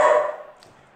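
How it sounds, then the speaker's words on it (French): A single loud dog bark close by, ringing briefly and fading into quiet. "c'est mon chien qui aboie"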